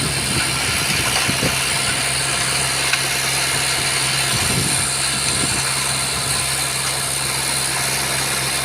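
A small tractor engine runs steadily during field tillage on a farm, a constant droning rumble with a buzzy, vibrating tone and no pauses.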